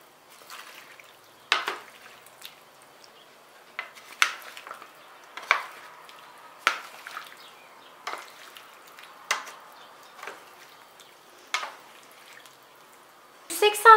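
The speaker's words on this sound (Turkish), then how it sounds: "Şöyle patatesiyle, domatesiyle hepsini güzelce bir karıştırıyorum." Vegetable dish with potatoes and tomatoes stirred in a tray before baking, a series of irregular close clinks and scrapes of utensil on dish, roughly one every second, in an otherwise quiet kitchen.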